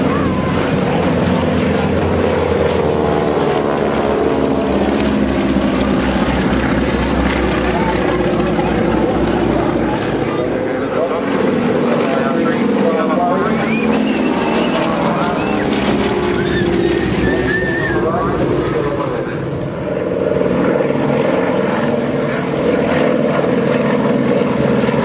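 Warbird propeller aircraft fly at an airshow, sending out a loud, continuous engine drone that swells and fades as they pass, with crowd voices talking underneath.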